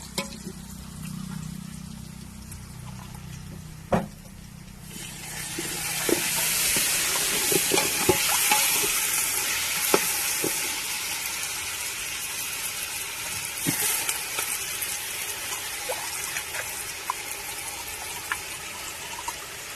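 Country chicken curry hits a hot pan and breaks into loud, continuous sizzling. Repeated scraping clicks of stirring follow, after a quieter opening with a single knock.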